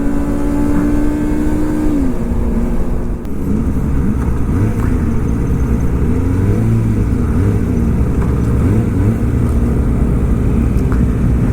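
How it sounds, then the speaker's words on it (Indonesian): A large group of Kawasaki motorcycles with aftermarket exhausts on a Sunday morning ride in Japan, loud throaty engines rumbling and blipping in overlapping revs, with steady close engine noise throughout. "Suaranya mantap semuanya, nggak ada yang orsinil knalpotnya."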